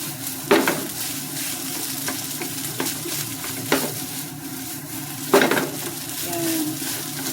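Garlic rice being stir-fried in a pan, a steady close sizzle broken by periodic scraping and clinks of a utensil against the metal, with no talking.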